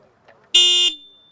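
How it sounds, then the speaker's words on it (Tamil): A Yamaha FZS V4 Hybrid motorcycle horn gives one loud, steady, bright honk of about a third of a second, close by, with a faint ringing tail after it and no talking. "ஹாரன் நல்லாவே இருக்குது, செம்ம எஃபெக்டாக ஹாரன் சொல்லலாம் நமக்கு"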